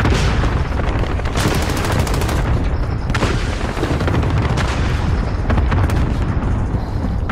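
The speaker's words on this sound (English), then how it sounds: "Friendly cluster strike inbound" A barrage of cluster strike explosions in Call of Duty Modern Warfare, heavy booms and cracks piling up in rapid overlapping succession with gunfire mixed in, loud and continuous.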